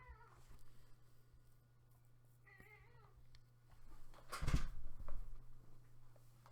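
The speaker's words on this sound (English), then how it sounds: "Sorry if you can hear my cat in there." A house cat meows several times, close to the microphone, as a few separate drawn-out cries over a low steady hum, with a louder burst partway through.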